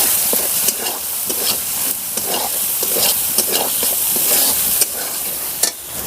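Turmeric and chili powder frying in a kadai while being stirred for a vegetarian paneer and potato dish, with a steady loud sizzle and repeated scraping strokes of the spoon, close up.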